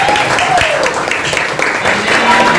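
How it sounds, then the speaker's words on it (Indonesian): A classroom of students bursts into applause, with dense, continuous clapping at close range and voices mixed in. "tepuk tangan buat kita semua"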